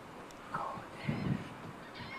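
Gulls calling in the morning, a few honking, squawking cries at moderate distance over a soft outdoor background, with no one speaking.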